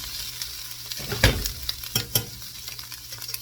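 Onions frying in a pan for an omelette crackle steadily up close, broken by a few louder scraping stirs of the utensil partway through.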